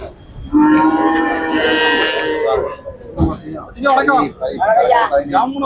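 At a cattle market in Melapalayam, Tirunelveli, a cow lets out a long, loud, close moo, followed by the overlapping voices of people talking nearby.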